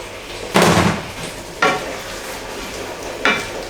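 Tomato puree is mixed into sizzling chilli in a pan: three scraping stirs cut through a steady low sizzle, each stroke sharp at first and then fading, close and clear with no talk.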